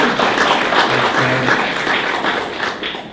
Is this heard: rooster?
no